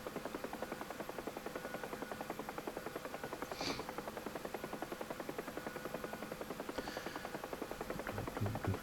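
Bell UH-1H Huey helicopter in the DCS flight simulator, its rotor chopping in a steady rapid rhythm with constant turbine whine throughout, close and even, with a couple of brief higher clicks along the way.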